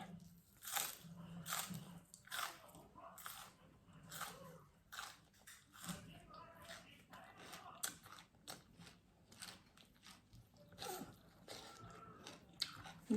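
Someone chews spicy raw beef larb with fresh vegetables close to the ear, giving repeated wet crunches and bites in an uneven rhythm, with faint murmuring now and then.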